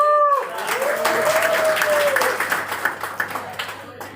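A crowd applauds a live speech in Ahmedabad, loud clapping that comes in at full strength, then thins and breaks into scattered claps over a few seconds, with a voice briefly audible at the start.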